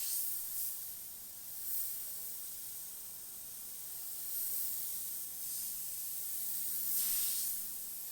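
A Sagola XTECH 300 airbrush with its air cap removed and the needle exposed sprays with a steady, faint airy hiss, with soft pulses of stronger spray at intervals.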